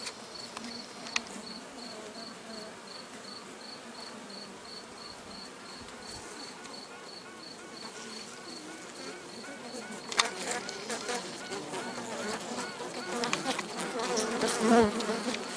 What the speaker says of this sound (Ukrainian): Якщо ви чуєте, то це співає матка.